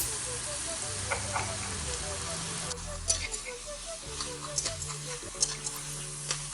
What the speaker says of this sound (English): first of all, we have to put in the soya meat or the TVP and let it fry a little bit